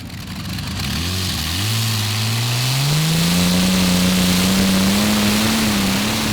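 An alcohol-fuelled, heavily modified WWII V12 engine on a competition pulling tractor at a Eurocup tractor pulling event in Brande, Denmark, revs loudly and climbs steadily in pitch under full throttle, a sustained close roar with no talking.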